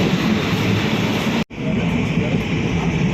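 A Konkan Railway train runs through a tunnel with a loud, steady, close rumble and roar, broken by one sudden brief dropout partway through before the roar resumes.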